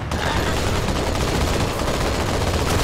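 Rapid automatic gunfire from the video game Halo 2 in the Metropolis level, a dense continuous burst of shots filling the whole stretch at close range with no pauses.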